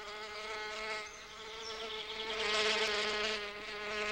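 Male bees fly in toward an orchid, a close, buzzing drone of wings with steady harmonic tone that swells and dips as they hover, with no voices.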